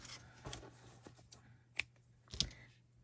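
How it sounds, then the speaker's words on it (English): Scissors snipping through yarn during Tunisian crochet work, two short crisp cuts standing out near the end against a quiet room background, close and fairly soft. "And then cut my yarn"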